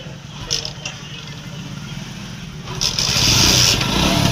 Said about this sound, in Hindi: ये पहली ही किक में गाड़ी स्टार्ट हो जाएगी